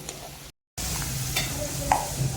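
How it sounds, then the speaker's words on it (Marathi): Green chillies and curry leaves spatter in hot oil at close range, a steady loud sizzle with crackling pops and a short break near the start. "मिरच्या आणि कढीपत्ता टाकते. ते उडतंय ना, तेल"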